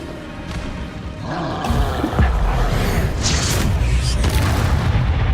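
Bombarda explosion spell in Hogwarts Legacy combat: a heavy boom lands around two seconds in over steady battle rumble, followed by crackling, crashing debris and further bursts.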